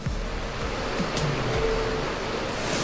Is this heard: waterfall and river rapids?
yes